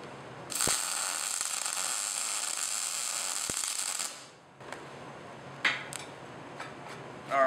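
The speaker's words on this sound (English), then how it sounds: "we're going to start with gas, we'll call it gas A, and make a little weld here" MIG welding with shielding gas A lays a bead on scrap metal. A loud, steady crackling hiss starts abruptly, runs for about three and a half seconds and then cuts off. A few faint clicks and taps follow in a quieter room.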